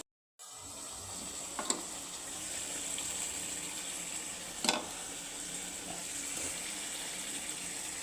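Prawns hit hot gravy for a coconut-free prawn malai curry, bursting into a steady, even sizzle that holds for several seconds, close and unbroken, with a couple of faint clinks from stirring.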